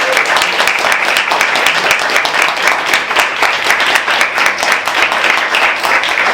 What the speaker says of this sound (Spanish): ha llegado el momento de dar un aplauso a Carlos y a Ramón